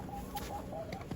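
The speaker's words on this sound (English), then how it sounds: "What's going on, chickens?" Chickens cluck close by on a farm in a short burst of soft, repeated clucks over faint outdoor background noise.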